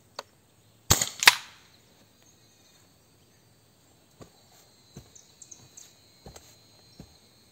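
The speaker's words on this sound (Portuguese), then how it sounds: "Primeiro disparo." A rifle fitted with a Fiora 480mm barrel fires one sharp, loud shot outdoors, a quick double crack followed by quiet, then scattered faint ticks and clicks against crickets and birds.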